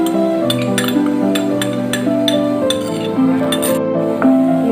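A metal spoon scrapes and clinks against a pan as whisked curd is stirred into spiced masala for dahi paneer, steady light clinking with a faint sizzle underneath, no talk.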